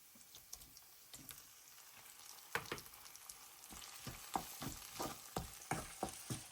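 Onions sautéing in a pan for Tamil-style egg curry, a steady crackling sizzle with repeated sharp scraping clicks of a spatula stirring them, growing busier toward the end, with no voices.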